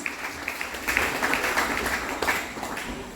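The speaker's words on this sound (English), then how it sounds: "Let's give this excellent person a wonderful round of applause." Audience applause at a secondary school graduation ceremony for the event's organizer, a moderate, continuous patter of many hands clapping, heard from a short distance.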